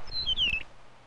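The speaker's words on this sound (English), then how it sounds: "because it sings somewhat like a lark, it is called a meadowlark" A meadowlark sings a short phrase of clear, slurred whistles that slide downward, close and fairly loud over a low rumble of background noise, then falls quiet.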